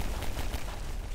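Gunfire in Garry's Mod during a FNAF nextbot match: a dense, noisy burst of shots that stays loud and steady for about a second, with no talking.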